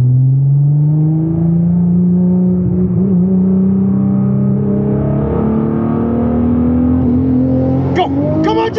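A Nissan GTR accelerates hard in a drag race against a Tesla Plaid, its engine note rising steadily in a loud, close, climbing roar, with excited voices shouting over it near the end.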